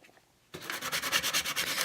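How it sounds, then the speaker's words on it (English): After a moment of quiet, a sanding block scrubs chalk paint off the raised lettering of a Dollar Tree container, making a close, steady, rhythmic back-and-forth rasping. "I'll do this by using a sanding block."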